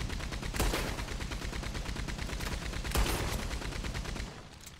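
Rapid, continuous video game gunfire rattles nonstop for several seconds, swelling into two louder volleys before it cuts off near the end. The shots are close and loud, with no voices.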